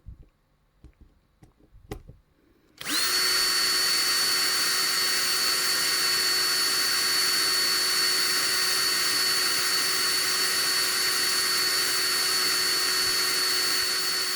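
A small power drill whirs steadily after a few quiet knocks, drilling into a Matchbox Mercury Cougar die-cast model during restoration; the motor holds a constant high whine close by.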